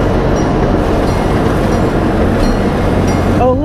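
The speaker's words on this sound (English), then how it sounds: "here we are rolling down the tracks on the train here" A miniature park train at Hermann Park rumbles steadily along its tracks with a constant close-up clatter, ending in a brief high squeal.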